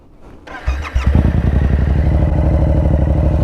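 A Yamaha R7 motorcycle fitted with a full exhaust system cranks briefly, fires up loudly and settles into a rough, throbbing idle close by, with no talking.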